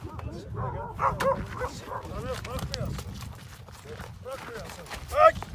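A dog in a Turkish village gives short, scattered barks and yips amid outdoor bustle, mostly under steady conversation between several men.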